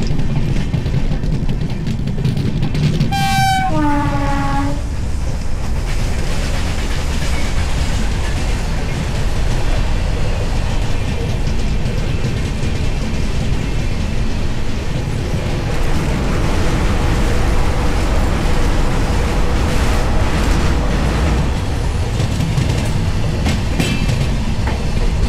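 The Sealdah–Jalpaiguri Road Humsafar Express pulls away from Kishanganj with a short horn blast early on, followed by a loud, continuous rumble and rhythmic clatter of the moving carriages.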